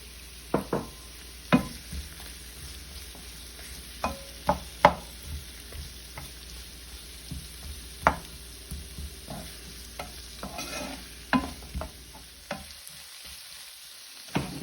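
Carrots being stirred in a pot of Dominican saltfish sancoche, with a soft background sizzle broken by a steady series of sharp spoon scrapes and clinks against the pot, close and clear.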